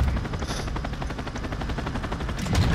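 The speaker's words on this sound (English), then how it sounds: "Oh, we got a chopper gun in there." A chopper gunner helicopter in Modern Warfare 2 fires sustained rapid bursts under a loud rotor drone, with the gunfire growing heavier near the end.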